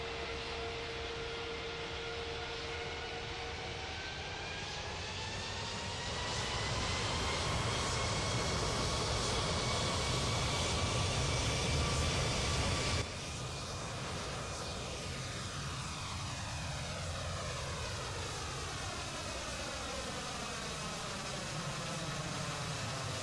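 Airliner taking off in the FSX flight simulator game, a steady engine roar that swells as thrust builds, then sweeping tonal whines from the engines during the run down the runway, loud and continuous with no talk.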